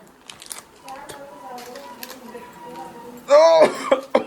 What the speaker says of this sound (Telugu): అది దొంగ దగ్గు